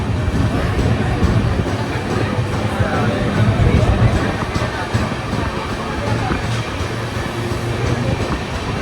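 A passenger train on a South Central Railway route runs steadily along the track, with a continuous loud rumble and rhythmic wheel clatter heard from inside the carriage and some voices underneath.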